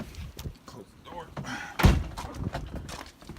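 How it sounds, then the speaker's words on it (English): The door of a 2003 Chevy Silverado 1500 pickup shuts with a single solid thunk partway through, close by, amid rustling and handling noise during interior carpet removal. "Close the door."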